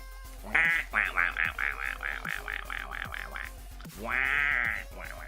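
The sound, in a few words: voice imitating Donald Duck quacking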